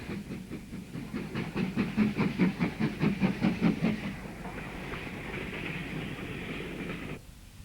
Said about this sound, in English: The Class 4 is on duty today and takes its turn to haul heavy trains up the incline to the south of the station.